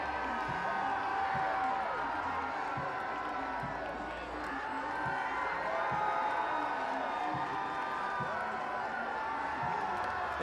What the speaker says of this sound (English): as the crowd goes buck wild for some brand new shirts